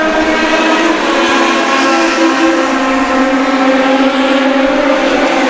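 US Legend race cars roaring past at New Hampshire Motor Speedway, a loud, steady engine drone with sustained harmonic whine that holds without a break, no talk over it.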